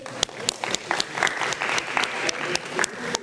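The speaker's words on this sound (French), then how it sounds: "Bravo, on peut s'applaudir s'il vous plaît." A small audience at a public speaking workshop applauds one another with sparse, irregular hand claps. The sharp individual claps are close and clearly separated, rising to a modest patter before thinning out.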